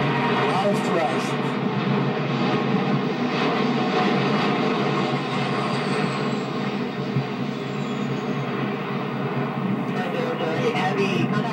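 Boeing 747-8 Intercontinental jet on its first takeoff, a loud, sustained engine roar with steady broadband thrust noise and a slowly shifting high whine across the whole stretch.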